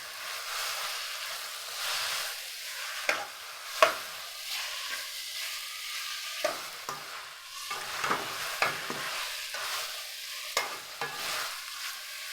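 A bitter gourd mixture stirred in a dry pan without oil: irregular scraping and clacking strokes of a spatula against the pan, some sharp and distinct, over a soft background sizzle, close and with no speech.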